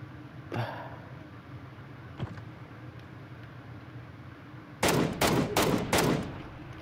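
Gunfire in PUBG: Battlegrounds, with a single loud crack early, a fainter second shot, then a tight burst of four or five rapid shots near the end over steady background hum.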